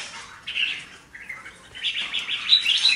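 Red-whiskered bulbuls chirp in bright, repeated short calls at moderate distance, with a caged decoy bird hung nearby, the phrases coming in quick bursts and growing busier toward the end.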